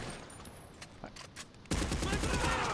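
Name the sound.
M16 rifle gunfire in GTA V video game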